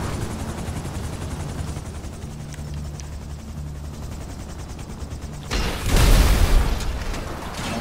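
A single missile strikes and blows up a helicopter in GTA, a loud broadband boom near the end that follows steady rotor and engine drone.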